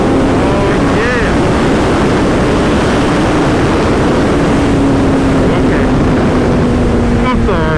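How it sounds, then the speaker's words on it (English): A motorcycle engine revs hard at full throttle, a loud steady roar heard close up and smeared by heavy wind rush, the pitch holding high for several seconds. "Come out on the bike, you gotta twist that throttle"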